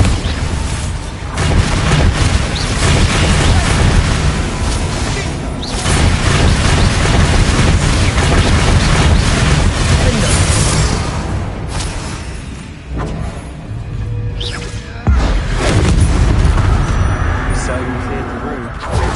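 Bombarda spell blasts in Hogwarts Legacy: booming explosions and crashing impacts in a dense battle mix. The bursts are loud and come back to back, with voices heard under them.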